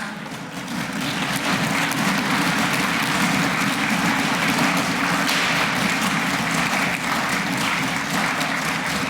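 Deputies of the ruling faction applaud in a parliament hall: steady, dense clapping from many hands that swells in within the first second and holds loud and unbroken throughout.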